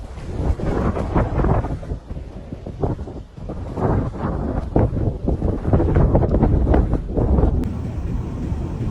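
A snow blizzard sweeps through Central Park in New York City, with wind roaring and buffeting loudly and continuously, gusts rising and falling in deep, rumbling waves close to the microphone.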